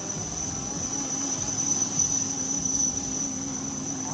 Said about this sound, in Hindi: you can see 2 Dhruv helicopters carrying the commandos